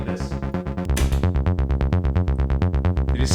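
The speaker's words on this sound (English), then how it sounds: "Normally the 303 would sound like this." A Roland TB-303 bass synthesizer plays a looping pattern of short, punchy, evenly pulsing notes at a steady rhythm, clear and upfront in a studio.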